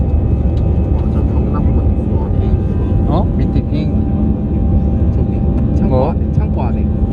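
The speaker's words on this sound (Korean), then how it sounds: "바르셀로나로 향하는 비행기가 미넨을 떠나고 있습니다" Airliner leaving Munich for Barcelona, heard as a steady, loud broadband roar of engine and cabin noise throughout, with people's voices talking over it.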